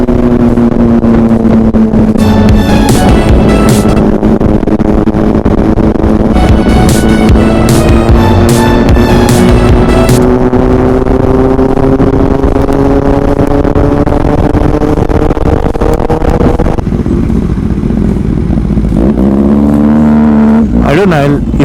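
Royal Enfield Scrambler 400X motorcycle ridden along a twisty mountain road, its engine droning loud and close with slowly rising and falling pitch, steady wind rush, and a rider talking over it.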